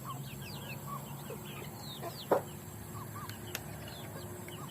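Backyard chickens cluck softly in a home garden in Laos where ducks and chickens are raised for food. Scattered clucks and chirps sit over a low outdoor background, with one brief sharper squawk midway.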